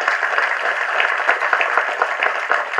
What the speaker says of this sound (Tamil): உங்கள் பாட்டுக்கு தான் கைதட்டினாங்கல்ல எல்லாரும்